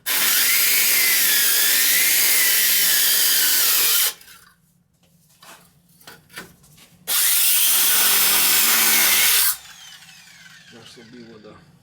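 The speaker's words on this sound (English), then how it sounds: "As much as you can with the grinder." Grinder cutting an old, leaking cast iron drain pipe, heard as two long, loud, harsh bursts of cutting. A quieter stretch between them holds faint knocks and handling sounds.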